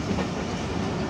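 The Tezgam 8 Down train rolls through Khanewal Junction station with a dense, steady rumble and rattle of wheels and carriages, loud and close throughout.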